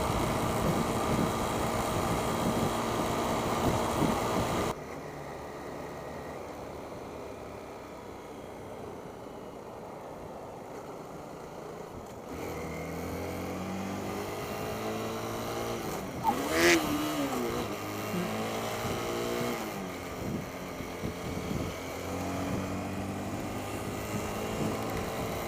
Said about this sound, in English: we're going 76 miles an hour on the freeway.